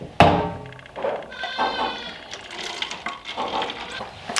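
A young goat bleats several times in quick succession, close and clear, with a few small knocks and rustles between the calls.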